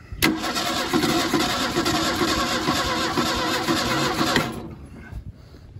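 The engine of a 1977 Ford Mustang II, off the road since 1989, cranks steadily on the starter in one continuous loud, close whirring run for about four seconds, then stops without catching.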